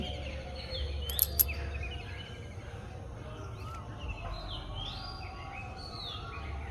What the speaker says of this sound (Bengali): সুন্দর পাখির আওয়াজ আমাদের কিন্তু বারবার মুগ্ধ করে